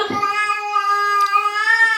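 Household pet cat giving one drawn-out, loud meow close by, lasting about two seconds with no talk over it.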